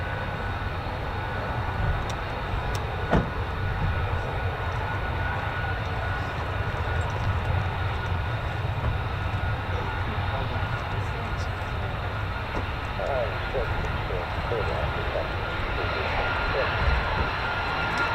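An F-35A fighter jet flies at RAF Lakenheath, a steady, broad roar that holds for the whole stretch at moderate distance.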